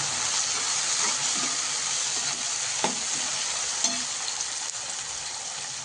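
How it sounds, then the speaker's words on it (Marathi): Vegetables such as capsicum, cabbage and green peas being stir-fried in oil for Schezwan fried rice, a steady close sizzle with occasional scraping stirs and small clicks of the spatula against the pan. "तेल सुटेपर्यंत परतवायचे आहे चांगलं."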